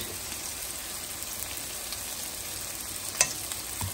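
Ginger-garlic paste with turmeric, red chilli and cumin powder sautéing in a pan gives a soft, steady sizzle with a single light utensil clink near the end; no one speaks.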